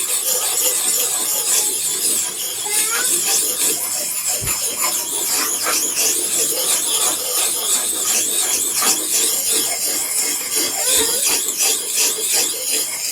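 Dull knife blade drawn repeatedly across the coarse side of a sharpening stone, a continuous gritty hiss of close, even strokes with no talk.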